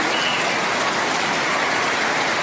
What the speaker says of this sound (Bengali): চারদিক বৃষ্টিতে জোরে বৃষ্টি হচ্ছে।